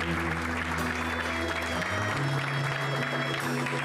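Wedding guests applaud the father of the bride after a parent dance, a steady wash of clapping over sustained low music tones that shift partway through and continue throughout.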